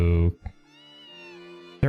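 A cat meows once in the Harvest Moon: A Wonderful Life video game, a drawn-out tonal game cry sitting between short bursts of a person talking at either end.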